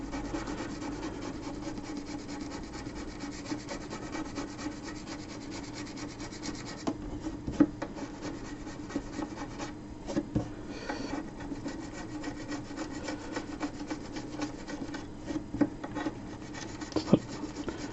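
Wax being scraped off a wooden PYE PE39U radio cabinet, a steady close rasping rub that runs throughout with a few sharper scratches, no voices.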